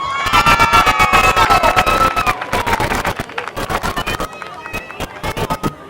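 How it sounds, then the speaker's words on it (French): Crowd at a 1988 charity softball game cheers and applauds a Montreal Canadiens hockey player, number 44; loud rhythmic clapping and shouting voices, some of them children's, with bright whistle-like tones over the crowd noise. "on applaudit le numéro 44 des Canadiens pendant que le match se poursuit"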